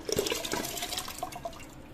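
Washed lentils poured into a pot of water with spices, a brief close splashing and gurgling pour fading over two seconds, no speech.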